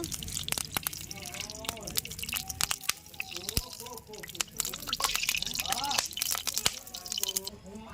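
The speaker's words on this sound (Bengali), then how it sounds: "আমি হচ্ছে তেল দিয়ে দেবো" Cooking oil is poured into a dry pan, giving a soft liquid trickle with small drips and faint crackles, close by, while someone talks over it.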